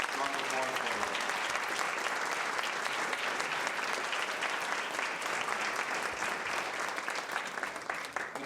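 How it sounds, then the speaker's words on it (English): A crowd at a volunteers' appreciation night gives the organizing committee a sustained round of applause, a loud, dense clapping that continues evenly with some voices mixed in. "How about a nice round of applause for them?"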